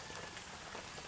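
Rain falls on a New Year's morning, a faint, steady patter of drops on surfaces, even and continuous with no voices.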